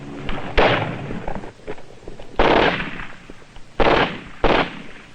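Sniper gunfire in a military training film rings out as four loud, sharp reports spaced irregularly over about five seconds, each with a brief echoing tail.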